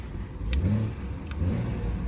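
Twin-turbo engine of a 2018 BMW 640i xDrive Gran Turismo Sport Line revving up twice with a deep exhaust note, steady engine rumble between the two swells, loud and close with no talking.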